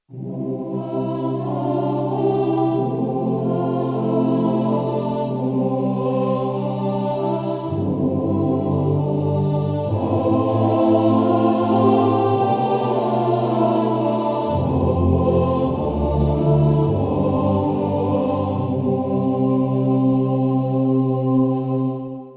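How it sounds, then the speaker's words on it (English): Sustained, airy boys' choir voice from a Yamaha CVP809 digital piano sings long held chords that shift a few times, a smooth, continuous ensemble tone with no speech. "this is the sound of the boys' choir"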